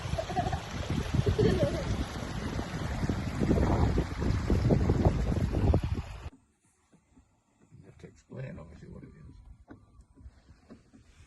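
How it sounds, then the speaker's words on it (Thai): Loud, gusty wind buffets the microphone outdoors in the English countryside near Barbon village, roaring steadily for about six seconds, then cutting to a much quieter stretch with faint rustles and light gusts. "แต่ลม ค่อนข้างมีลมนะคะวันนี้"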